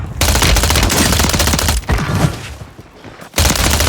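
Dense, rapid automatic gunfire from the Warzone 3 video game, loud and close, with sustained bursts that briefly dip and then resume.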